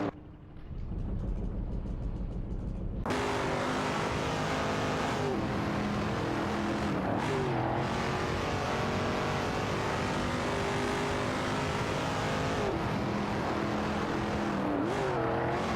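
AI-driven race cars from a racing video game roar continuously after a quiet start, engines droning and shifting pitch as cars accelerate and pass, loud and steady throughout with no talk.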